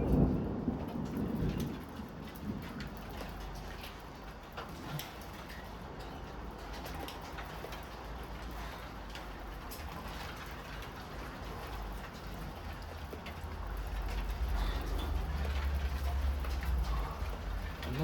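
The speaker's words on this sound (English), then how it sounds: "The thunder and rain have stopped for now." Steady rain hisses throughout with a low rumble of thunder swelling near the end; no voices.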